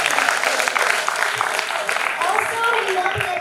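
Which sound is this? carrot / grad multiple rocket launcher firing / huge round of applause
huge round of applause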